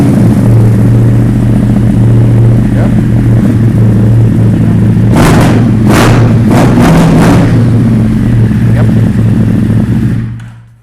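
A Ducati XDiavel S motorcycle with a remapped engine and loud Termignoni exhaust idles with a deep rumble, then revs sharply several times in quick bursts before cutting off.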